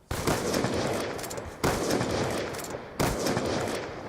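Gunfire in the video game Call of Duty Black Ops 2, a sniper match where loud sharp shots crack at intervals of about a second and a half, each followed by a rumbling tail.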